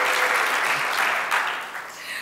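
Audience applause fills a conference hall at a national conference speech on Palestinian rights, a steady loud clatter of many clapping hands that swells and then slowly tapers without voices.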